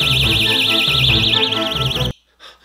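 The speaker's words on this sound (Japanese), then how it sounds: "防犯ブザー、あんまりねこういうのは家で鳴らすものじゃないんですよ。" Personal security alarm buzzer blaring right after its pin is pulled, a loud, close, continuous warbling high-pitched siren tone that cuts off abruptly near the end, leaving near silence.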